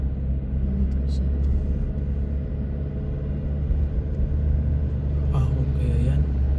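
A vehicle passing on a road on the way to Baler, Aurora, a low steady engine rumble near the microphone under cabin noise, with a faint rattle toward the end.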